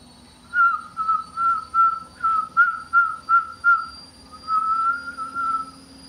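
A woman whistles a quick run of about ten short, clear, high notes, then holds a longer wavering tone, close and loud over faint background hum.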